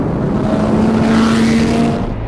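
A Corvette drives fast through heavy traffic, producing a loud, steady engine roar with a sustained droning tone for about two seconds.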